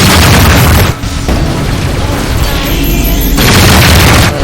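Loud, dense booms of incoming missile explosions rumble continuously in the Rebel Galaxy Outlaw space-combat game, with two brief gaps breaking the barrage.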